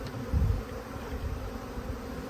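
Honey bees hum in a low, steady drone over hive frames thickly covered with bees, close and fairly quiet, with a brief louder swell near the start.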